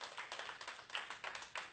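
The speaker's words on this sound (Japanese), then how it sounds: "拍手。" A few people clap in a karate dojo, a quiet, thin patter of hand claps in loose bursts that stays soft and close.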